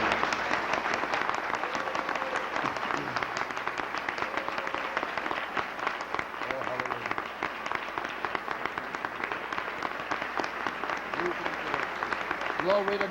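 Church congregation clapping steadily and continuously, a dense crackle of many hands at moderate distance, with voices faintly audible underneath.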